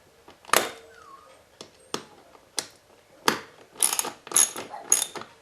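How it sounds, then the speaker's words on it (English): A ratchet tightening the seat bolt on a Stamina cardio exercise bike gives sharp metallic clicks and short ratcheting bursts, close and fairly loud, spaced irregularly and then clustering quickly near the end. "Okay, then you put it on the ratchet. Tighten it down"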